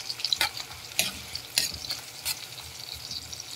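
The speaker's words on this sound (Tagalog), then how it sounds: "Igisa lang natin ang garlic at saka onions." Garlic and onions sauté in a hot pan, a soft steady sizzle broken by several sharp scraping stirs of the utensil against the pan, close by with no talking.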